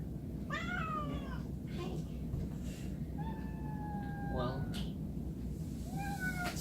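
A cat meows several times in a room, drawn-out cries spread across the clip over a steady background hum, while a person speaks briefly.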